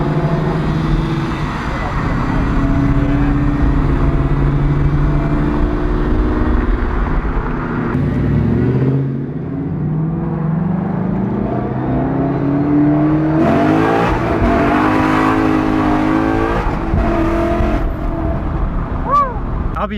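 Strong engine pull of a car fitted with a custom Whipple Gen 5 3.0 supercharger, heard from the cabin: a loud, steady drone rising in pitch under acceleration, with shifts and a brief dip midway.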